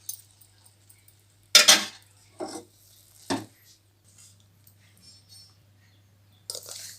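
A spoon scrapes and clinks against a vessel while ragi flour is mixed with hot syrup for laddus. The scrapes come in a few short, sharp strokes separated by near silence over a faint steady hum.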